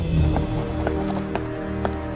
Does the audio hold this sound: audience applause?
no